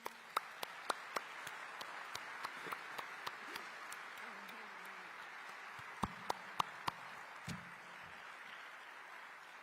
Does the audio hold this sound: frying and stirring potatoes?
no